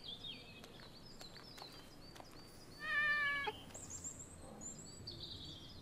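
A cartoonish cat meows in the Animal Doctor video game, a short, fairly loud call in the middle of the clip, surrounded by bright electronic chirps and game sound effects over a low background hiss.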